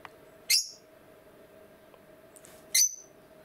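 A pet budgerigar gives two short, bright chirps about two seconds apart, close and fairly loud against a quiet indoor room with a faint steady hum.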